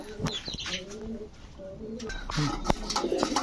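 A pair of green-necked fancy pigeons, male and female, coo in low repeated phrases, with a few higher chirps and light wing flutters mixed in against steady background noise.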